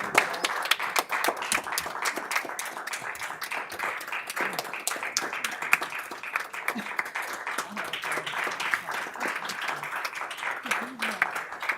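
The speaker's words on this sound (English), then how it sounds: "a round of applause." An audience at a school board meeting gives a standing ovation, with dense, sustained clapping that runs steadily throughout, loud and close, with scattered cheers and voices mixed underneath.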